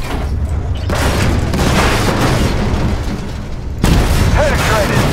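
Shell strike on a tank's ammo rack in an armored-combat video game: heavy booming impacts and a dense rumbling roar with a sharp new blast near the end, loud and close, under intermittent radio-style voices.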